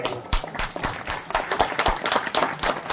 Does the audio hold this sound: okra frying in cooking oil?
no